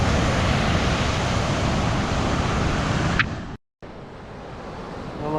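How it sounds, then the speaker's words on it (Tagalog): Strong ocean waves crash and roar at White Beach in a loud, continuous wash of surf and wind, broken by a brief sudden dropout near the end. "Grabe, lakas ng alon ngayon."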